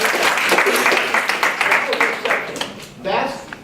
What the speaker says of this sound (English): Brian, let's give him a round of applause.